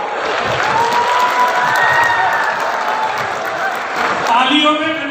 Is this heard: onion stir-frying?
no